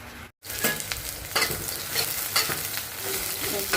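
Squeezed vegetables frying in oil for a chutney, a loud continuous sizzle with stirring scrapes, close up, after a brief silent gap at the start.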